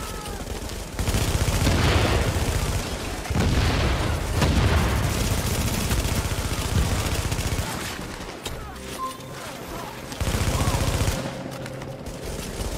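Sustained automatic gunfire and booming blasts from the video game The Division in its Last Stand mode, loud rattling volleys broken by brief lulls, with a voice audible now and then.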